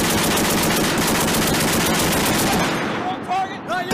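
U.S. Marines fire an M240B or heavy M2 Browning .50 caliber machine gun in a long, loud continuous burst of rapid shots at a range. The firing stops near the end, leaving brief voices.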